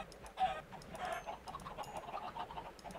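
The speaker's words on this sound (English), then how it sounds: "I'm sorry, chickens, but you're too noisy" Minecraft chickens cluck and squawk in short repeated calls over a busy low background, the bursts close and moderately loud.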